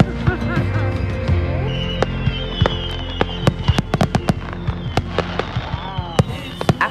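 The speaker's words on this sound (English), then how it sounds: "we were able to catch a fantastic fireworks show" Fireworks burst over a rural homestead, with sharp cracks and booms going off irregularly and growing more frequent toward the end, layered over crackling fizz and a continuous background rumble.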